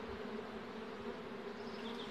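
Honey bees droning steadily around a small but heavily populated hive opened by a beekeeper in a protective suit, a continuous, dense buzz at moderate level with no talk.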